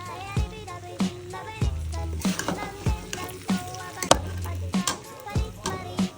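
Noodles go into a hot pan and fry with a steady sizzle, broken by repeated scraping and tapping strokes of a utensil at a regular beat. A voice talks over it.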